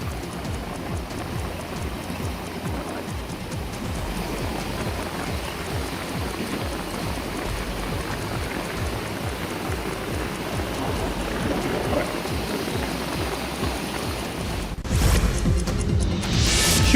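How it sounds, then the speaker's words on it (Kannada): Heavy rain falls steadily in Shivamogga, a dense, even roar of downpour lasting throughout with no voices, swelling briefly louder near the end. "ಶಿವಮೊಗ್ಗ ಭಾಗದಲ್ಲಿ ಭಾರಿ ಮಳೆ ಆಗ್ತಾ ಇದೆ"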